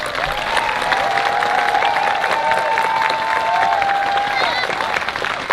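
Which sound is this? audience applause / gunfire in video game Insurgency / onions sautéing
audience applause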